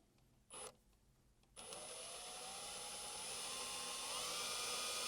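A power drill with a 3/32 bit whines steadily after a couple of brief false starts, its high-pitched motor pitch rising slightly as it bites through a metal roof bracket, close and continuous.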